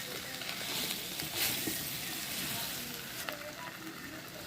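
Fried prawns go into a pan of sizzling jackfruit and potato curry, giving a steady, close frying hiss with a few brief stirring scrapes and no voices.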